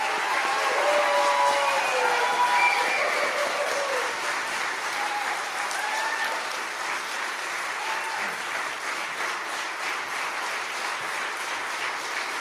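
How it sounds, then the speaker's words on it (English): Sustained audience applause fills a church after an a cappella concert, a dense steady clatter of many hands that slowly eases while staying loud throughout. "another round of applause for our wonderful alum"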